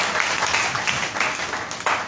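A church congregation bursts into dense, continuous applause, a steady wash of many hands clapping together at full volume throughout, with no break.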